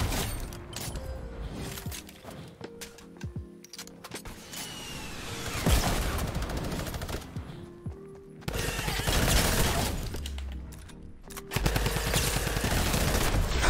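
Gunfire erupts during a squads match in a video game: bursts of rapid shots and mechanical clicks rattle across the clip, with tonal game sounds in between and no voices.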